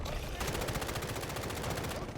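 Sustained rapid automatic gunfire in the video game DF, a dense steady rattle of shots lasting a couple of seconds, close and loud, with a voice talking over it.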